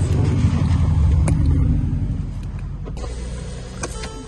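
A 2013 Mercedes E350 engine runs after being started with a battery charger hooked up, a loud close rumble that eases down into a steadier idle with a few faint clicks and mechanical ticks.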